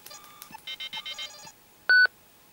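A wrist computer gives a quick run of dial-tone beeps: a few short tones, then a rapid rhythmic sequence of about six pulses, and after a pause one louder, longer tone, all clean and close with no talking.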